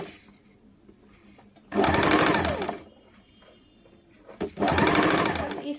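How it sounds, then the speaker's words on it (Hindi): Two short, loud bursts of a sewing machine stitching kameez strips, each about a second long and separated by a quiet pause, with fast rhythmic needle chatter over a low motor hum. "इसी प्रकार दोनों पट्टी का सिलाई कर लेंगे।"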